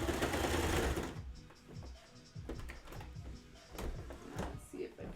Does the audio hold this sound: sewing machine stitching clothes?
yes